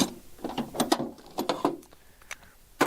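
Tools from a socket set being handled: a ratchet clicks and rattles in short irregular bursts, with metallic clinks of sockets and bars being moved close by, and no voices.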